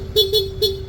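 Stock horn of a Honda Click 160 scooter sounding three short honks in quick succession, loud and close.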